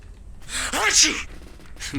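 A character in the video game Alan Wake Remastered lets out a single close, breathy sneeze, with a quick inhale leading into a sharp burst that fades within about a second.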